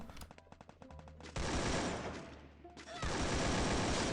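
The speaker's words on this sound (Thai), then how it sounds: "มันยิงทะลุไอวอลไอตุงกำแพงเลย" Rapid automatic gunfire in Free Fire tears through a gloo wall in loud sustained bursts, with a brief pause between two long volleys and a voice faintly underneath.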